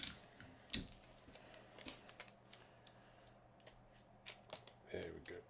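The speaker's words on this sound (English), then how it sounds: "So I'll just get some tape to tape it down." Tape is pulled from a roll and snipped to hold a star down. It comes through as quiet, intermittent clicks, rips and cuts spread across several seconds, with a slightly louder rustle near the end.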